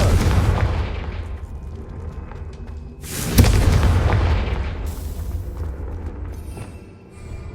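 Blasting spells explode in Hogwarts Legacy: a rumbling boom is followed by a sharp, loud burst around the middle with a long decaying rumble, then another blast that fades out.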